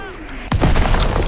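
Artillery blasts and gunfire erupt in the WWII shooter Call of Duty WW2, a sudden loud boom after a quieter stretch followed by dense, crackling bursts of fire.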